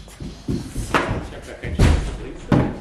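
A car door is shut with several heavy, close thuds and slams at irregular intervals, with a voice in the background.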